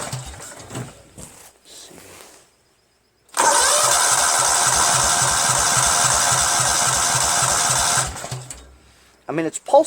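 A Cub Cadet lawn garden tractor with a rough-running Briggs & Stratton engine cranks with a loud, rapid, rhythmic chug for several seconds, then stops. Speech and small handling noises come before and after.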